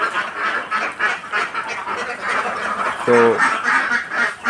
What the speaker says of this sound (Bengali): আমার হাঁসগুলো দেখতে পাচ্ছেন